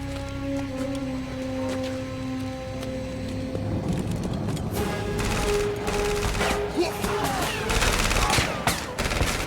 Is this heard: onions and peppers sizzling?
no